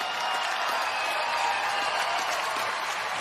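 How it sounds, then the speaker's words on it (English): Applause after a five-round bare-knuckle fight rematch, a dense steady wash of clapping from the arena audience, moderately loud and continuous throughout with no voices on top. "let's have a round of applause for these two warriors."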